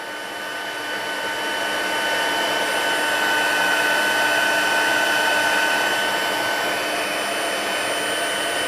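A hair dryer blows steadily and loudly on wet paint over chalkboard paper for a craft project, one continuous airy whir with a faint motor whine that holds throughout.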